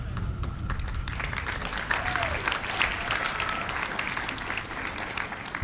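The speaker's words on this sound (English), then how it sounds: "Let's give Katie and Ashley another round of applause" Applause from the audience at a high school commencement ceremony, a steady, moderately distant patter of many hands clapping that carries on through the whole stretch, with faint voices underneath.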